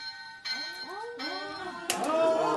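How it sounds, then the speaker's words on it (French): A small plush toy egg's bells chime and tinkle lightly as it is shaken while voices talk over them, the jingling growing brighter toward the end. "C'est un petit œuf en peluche qui fait du bruit"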